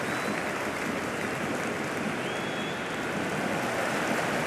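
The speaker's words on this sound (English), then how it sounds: "The crowd is electric right now." A stadium crowd in the Cricket 26 video game roars in a dense, continuous wash of cheering noise, steady and loud throughout.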